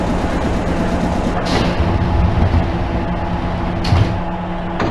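Doors closing on a JR Yamanote Line 103-series commuter train in Densha de GO! FINAL, heard as soft thuds within a constant loud rumble of train and station noise.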